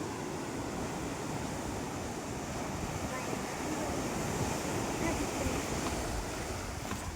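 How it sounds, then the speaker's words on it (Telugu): Ocean waves break continuously on Uppada beach near Kakinada, India, a dense, even rush of surf with wind buffeting the microphone throughout. "సలలన్నీ ఎలాగ వస్తున్నాయో ఇక్కడ"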